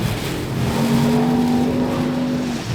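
A Land Rover Defender OCTA SUV engine roars and revs steadily while drifting, its pitch sustained and then easing off, close and dominant with no voices.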